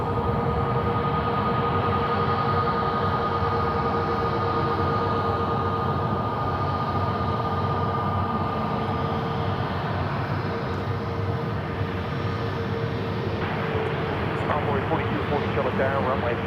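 Steady, continuous roar of an Airbus A320neo jet airliner at Charlotte airport, six years old, a broad even engine rumble with a faint tonal whine running throughout, moderately distant and unbroken.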